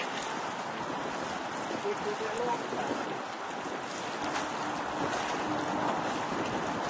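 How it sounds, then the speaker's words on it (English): Steady wind rushes over a sailboat out on open water in roughly 20 mph winds, a continuous broadband hiss with faint water wash beneath and no clear voices. "Wind is dropping down."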